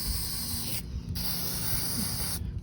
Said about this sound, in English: And we'll just spray these nuts and bolts for some rust protection